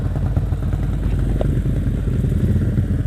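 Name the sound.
motorcycle engine running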